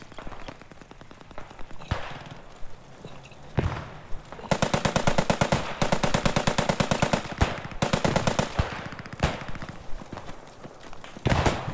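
Gunfire in the Squad 44 World War II shooter on the Oosterbeek map comes in long rapid automatic bursts, loud and close, with pauses and single shots between the volleys.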